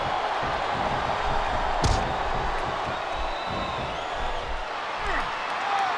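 An arena crowd in a wrestling video game murmurs and cheers in a continuous dense roar, with a sharp slam-like hit partway through and commentators' voices talking over the noise.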